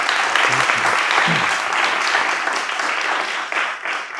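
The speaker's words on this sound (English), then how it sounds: "Please give him one more round of applause." Audience applause after a lecture, a dense sustained wash of clapping from a room full of listeners, steady throughout with a slight dip and tapering near the end.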